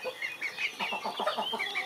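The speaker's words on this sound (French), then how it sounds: "un coq et une poule" A rooster and a hen cluck close by in a farmyard, a busy run of short rhythmic clucks and murmurs continuing steadily without pause.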